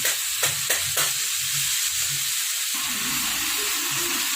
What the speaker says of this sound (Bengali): লঙ্কার গুঁড়ো দিয়ে ভালো করে মশলাটাকে কষিয়ে নিলাম